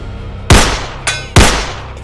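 Two sharp, loud rifle shots about a second apart in a tense movie standoff scene, each with a ringing decay, plus a softer metallic bang between them.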